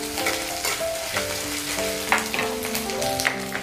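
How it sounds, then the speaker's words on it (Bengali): Grated coconut fries in a pan, giving a dense, continuous crackling sizzle with light stirring over a faint melodic background, close and fairly loud, with no talk. "নারকেলগুলো আমি খুব বেশি করে ভাজবো না, হালকা একটু ব্রাউন কালার চলে এলেই এর ভিতরে আমি দিয়ে দেব আদা কুচি।"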